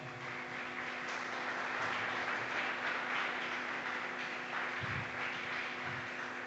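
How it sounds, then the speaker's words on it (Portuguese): A church congregation claps together during a Portuguese-language service, producing a quiet, even wash of applause with a faint steady hum beneath it. "Vamos aplaudir o Senhor bem forte?"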